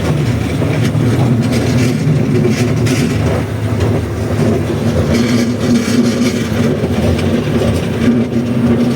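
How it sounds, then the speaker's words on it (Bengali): A toy train ride at the Bangladesh National Zoo in Mirpur rumbles along loudly and continuously, with a steady rolling clatter and engine drone close up and no clear voices. "এই যে একটা খেলনা ট্রেন"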